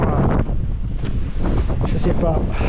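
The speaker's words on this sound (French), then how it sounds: "le vent il forcit là" Strong wind buffets the microphone in loud, rough gusts, with a steady low rumble and a wash that may be water underneath.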